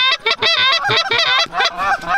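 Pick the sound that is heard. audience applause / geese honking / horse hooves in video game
geese honking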